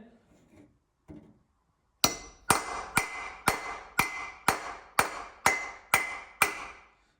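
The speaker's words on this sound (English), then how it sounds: "with the hammer, you gotta kind of hammer it in" After a few soft murmured words, a hammer strikes ten times in an even, quick rhythm, each blow sharp and ringing close by, driving in a water pump part on a VW Mk1 Golf.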